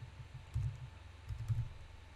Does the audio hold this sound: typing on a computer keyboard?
yes